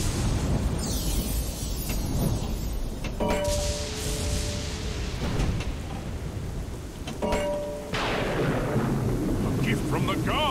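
Rumbling thunder and crackling storm effects from a thunderstorm on a Pinball FX3 table, with loud broadband bursts and booms at intervals over a steady roar, mixed with short electronic tones.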